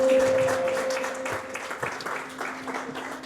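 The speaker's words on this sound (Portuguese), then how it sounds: "Pode dar uma salva de palmas para Jesus" A church congregation claps together in a dense patter that carries on for a few seconds, with a steady electronic hum underneath.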